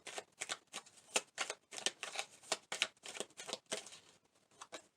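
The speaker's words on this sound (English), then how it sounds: "I'm going to pull a few message cards for you as well." Tarot message cards are shuffled and drawn by hand, a faint close series of papery riffles and flicks in uneven bursts, with no talking over them.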